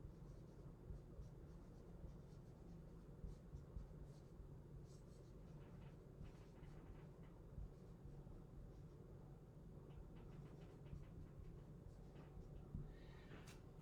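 Marker or chalk writing a word on a classroom board during a calculus lesson, faint scratchy strokes and taps over a steady room hiss.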